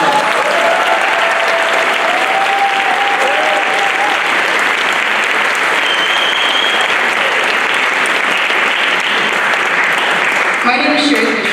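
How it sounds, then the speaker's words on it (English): Loud, sustained applause from a crowded audience at a Baltimore County schools vocal jazz ensemble concert, a dense unbroken wash of clapping that fills the whole stretch and thins slightly at the very end. "let's give our students who are out here another round of applause"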